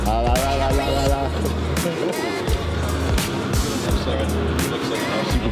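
A supercharged classic car engine runs loud and close, with a dense mechanical roar, repeated revving swells and rattling clicks throughout.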